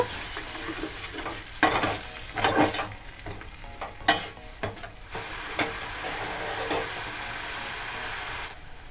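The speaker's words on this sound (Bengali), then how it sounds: "জল দিয়ে একদম সসটাকে খুব ভালো করে মিক্স করে নেব" Egg momo sauce thinned with a little water gets stirred in a pan over a medium flame, giving repeated scraping strokes and bursts of bubbling sizzle, fairly close and without talk.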